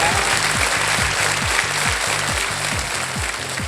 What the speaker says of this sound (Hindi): ताली बज गई आपके लिए